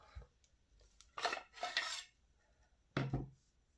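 Three short bursts of a knife rattling and clacking inside a tightened wooden sheath as it is shaken, close and crisp with quiet pauses between.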